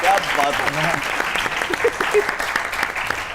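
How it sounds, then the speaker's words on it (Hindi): Studio audience applause on a Pakistani comedy stage show, a steady wash of clapping that runs throughout while a voice speaks briefly over it. "बहुत सी तालियां होनी चाहिए"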